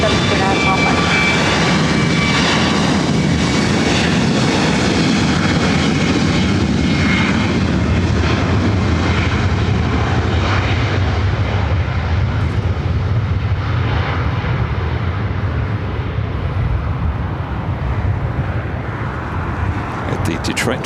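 A Boeing 767 heavy jet, United flight cleared to land on runway 24 right at LAX, roars loud and sustained with broadband engine noise that slowly eases over about twenty seconds, with a radio-style voice talking over it.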